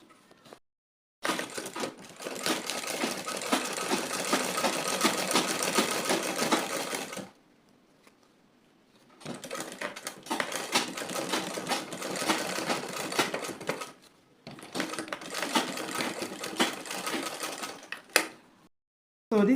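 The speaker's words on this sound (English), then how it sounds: "you're going to sew each bone twice" A sewing machine stitches boning channels on a bust cage, each bone sewn twice, running in three loud, close, sustained bursts of rapid needle chatter separated by short pauses.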